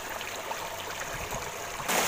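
River water flowing steadily at Khandi dam near Bhanupratappur, a continuous rushing wash of water, fairly close and unbroken, with no talking.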